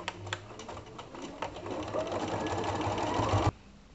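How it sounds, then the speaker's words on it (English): A sewing machine runs steadily while top stitching shorts along the outside edge of the presser foot, a close, continuous whirring stitch rhythm that stops abruptly after a few seconds. "use the outside edge of the presser foot and go along that first top stitching line that we did"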